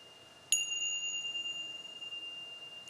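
A meditation bell is struck once during a spiritual campus meditation, producing a crisp, bright chime that sustains and softly fades in an otherwise quiet space.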